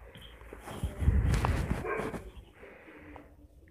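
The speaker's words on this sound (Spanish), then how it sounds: "yo estoy oyendo sonidos del perro" Dog sounds picked up by a close microphone during a home gameplay recording: soft snuffling, movement and faint whimpers, rising and falling over a few seconds without talk.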